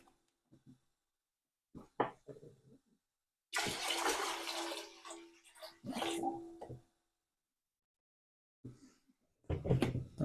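Warm water pours from a jar into a pan for homebrewing a beer kit, two short splashing bursts separated by quiet, with scattered clunks and knocks of handling around them.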